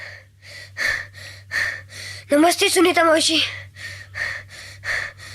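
Heavy, rhythmic panting from someone who has just run, each breath loud and close, broken briefly by a short spoken greeting before the gasping resumes.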